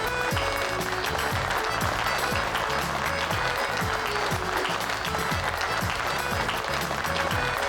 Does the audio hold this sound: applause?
yes